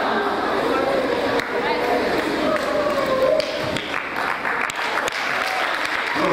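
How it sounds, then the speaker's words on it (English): An audience in a dome hall breaks into sustained applause, a dense, fairly loud wash of clapping that carries on for several seconds before thinning, with chatter and a voice mixed in. "Oh, so you can clap for that."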